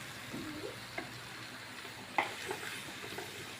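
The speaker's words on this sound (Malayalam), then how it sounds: "ഇത് നല്ലപോലെ നമുക്കൊന്ന് വഴറ്റിയെടുക്കാം" Sliced onions for a duck egg curry sauté in a pan with a quiet, steady sizzle, broken by a few scraping stirs and soft taps of a spoon against the pan.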